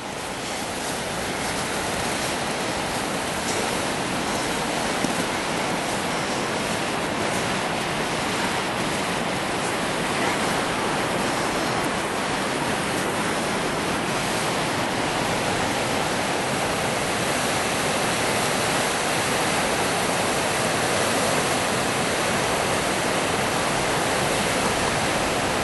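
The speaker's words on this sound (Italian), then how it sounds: "Qui è un altro punto delle famose rapide." River rapids rushing in freezing, windless winter cold at minus fifteen degrees, a steady broad roar of turbulent water, loud and unbroken throughout with no voices.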